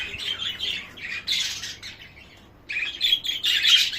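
Budgerigar chicks and adults in breeding cages chirp and chatter in fast, high, overlapping bursts, moderately close and fairly quiet, with no talking.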